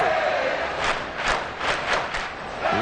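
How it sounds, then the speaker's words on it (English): Roaring stadium crowd in the Madden 24 football game, a broad sustained din with repeated swells of louder cheering and shouting, a brief voice fragment at the start and end. "That just means this crowd's going to get even louder."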